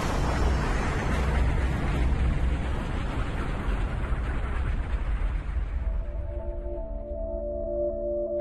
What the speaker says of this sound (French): Ça a été l'explosion la plus puissante qu'on ait jamais